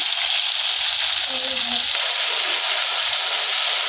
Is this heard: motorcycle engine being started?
no